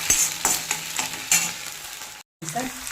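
Stuffed brinjals sizzle and crackle in hot oil as they are dropped in one by one, with bursts of frying and stirring that break off into a brief silence before the sizzle resumes.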